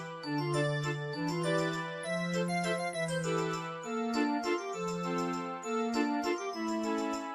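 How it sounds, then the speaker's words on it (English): Bright, chiming synthesized melody with a steady low bass line, playing continuously and evenly at moderate volume, with no voices over it; the tune is likened to the Game of Thrones theme. "Doesn't this song sound like the Game of Thrones theme song?"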